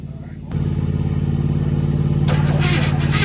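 A 1967 Chevy barn find engine cranking over on the starter, a steady loud rhythmic churning that settles in after a brief pause and continues, with voices heard over it toward the end.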